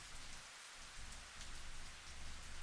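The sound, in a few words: rain in the video game Higurashi: Kotohogushi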